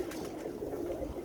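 Birmingham Roller pigeons coo softly in a low, continuous burble, close by with no talking.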